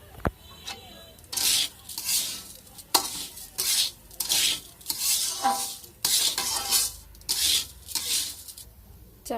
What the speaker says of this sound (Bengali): চালটা আমি সুন্দর করে ভাজি করে নেব এখন